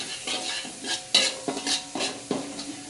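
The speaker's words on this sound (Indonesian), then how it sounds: "Kita aduk lagi" Tofu and lime are stirred in a sizzling frying pan, with quick repeated scraping strokes of a utensil over a soft, steady fry.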